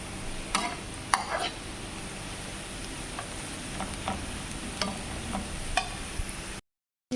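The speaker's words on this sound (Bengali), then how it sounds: "বাদাম ভাজছি, কিশমিশ ভাজবো" Nuts fry in a pan with a low, even sizzle, and a few sharp clicks and scrapes of stirring break through at irregular moments.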